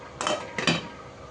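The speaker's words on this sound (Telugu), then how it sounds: "దీన్ని పెట్టేసి ఇంకొక 2 నిమిషాలు మూత పెట్టి ఉంచుదాం." A metal lid goes onto a pan of Telangana-style fish curry with two quick, close clanks in a row.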